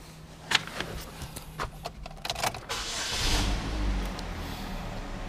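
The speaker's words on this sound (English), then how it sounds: "Power windows in the back." Rear power windows on a used Chevrolet HHR with black cloth interior run with a soft electric motor whine, mixed with several small clicks and thumps, followed by a steady low rumble inside the car.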